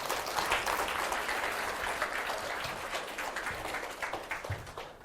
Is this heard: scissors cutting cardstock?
no